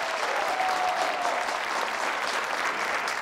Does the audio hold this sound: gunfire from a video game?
no